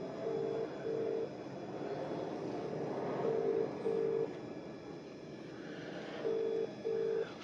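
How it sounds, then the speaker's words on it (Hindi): Outgoing phone call ringback tone, paired beeps repeating at intervals without being answered, heard over steady outdoor traffic and road noise. "अभी तो बेल ही जा रही है"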